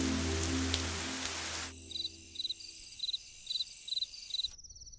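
Rain falls steadily at first, a broad hiss, then gives way after a couple of seconds to a quieter scene of rhythmic, pulsing insect chirps in repeated bursts.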